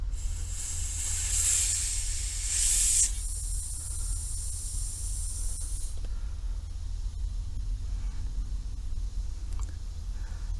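Compressed air blows into a Mercedes fuel hose in a loud, steady hiss that surges in two bursts over the first three seconds, then settles into a softer, continuous leak-like hiss over a low background hum.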